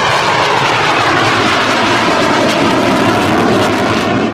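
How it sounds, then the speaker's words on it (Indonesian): A military fighter jet flies past overhead, its loud, steady engine roar filling the air without a break before it stops abruptly at the end. "Widih, yang ini pesawat tempur."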